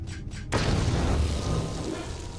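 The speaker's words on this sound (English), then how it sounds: "I'll just throw a couple grenades his way." A grenade explodes in KOTOR2 with a sudden heavy boom after a brief quiet moment, followed by a long rumbling decay that fades over two seconds.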